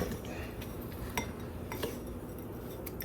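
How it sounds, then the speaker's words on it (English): Spoon clinking lightly against dishes in a home kitchen, a few faint scattered metallic chinks over a low steady background. "She's grabbing a spoon."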